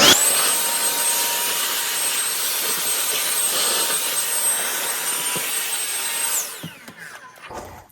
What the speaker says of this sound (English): have your trusty handy vacuum